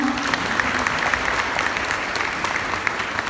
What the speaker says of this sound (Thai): ขอเสียงปรบมือดังๆอีกครั้งหนึ่งครับ